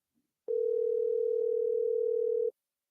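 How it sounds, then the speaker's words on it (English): A steady telephone dial tone heard while a call is placed, one continuous pure hum lasting about two seconds, clear and alone with no talk. "we're going to get Gene on the phone here"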